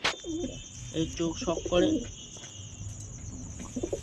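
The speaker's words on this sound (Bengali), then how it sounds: "এটা হলো একটা গিরিবাজ মালওয়াই মাদি।" A giribaz Malwai female pigeon gives soft, low coos in a loft, heard intermittently beneath someone talking nearby, with a faint steady hiss in the background.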